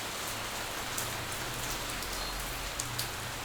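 Rain falls in the video game City 20, a steady dense patter of drops on surfaces throughout. Scattered slightly louder drips rise from the wash, with no speech heard.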